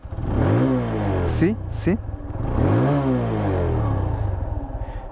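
TVS Apache RTR 160 2V motorcycle engine revving with a phone resting on the tank, two rising throttle blips with a heavy growling exhaust note, close and loud, with someone speaking briefly over it.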